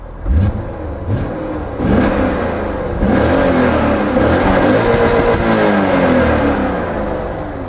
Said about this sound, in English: We'll give her a couple revs here and see if you can hear the engine.